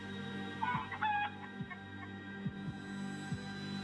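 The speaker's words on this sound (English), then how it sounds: "I heard a chicken." A chicken clucks faintly a few times over a steady electrical hum and low throbbing, captured by a home security camera in a quiet neighborhood at night.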